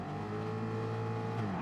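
Race car engine revving high and steady at the start line of a racing video game at Laguna Seca, a loud sustained buzzing drone with strong harmonic layers and a slight pitch dip near the end.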